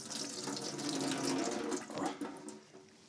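Water drains and splashes into a sink from thawed shrimp, a steady rushing flow that tapers off near the end.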